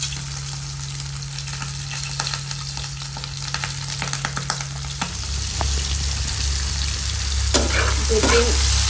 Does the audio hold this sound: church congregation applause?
no